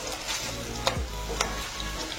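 Okra (bhindi) being stirred as it fries in a pan, with a soft steady sizzle under two or three distinct scraping knocks of the spoon against the pan, close and fairly quiet.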